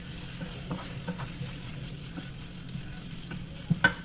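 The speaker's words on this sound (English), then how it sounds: "I'm sauteing up the ground beef and the onion and the garlic with the seasonings in there" Ground beef with onion, garlic and seasonings sautéing in a pot gives a steady low sizzle, with a few soft stirring scrapes and a pair of sharper utensil knocks near the end.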